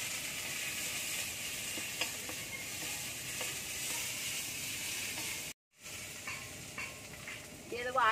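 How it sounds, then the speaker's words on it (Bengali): A paste of ground cumin and chili with turmeric powder fries in a pan, giving a loud, constant hissing sizzle with occasional stirring scrapes. It cuts out for a moment, and a spoon clinks near the end. "জিরে বাটা, লঙ্কা বাটা, হলুদ গুঁড়ো দিয়ে ভালো করে কষিয়ে নিতে হবে মশলাটা।"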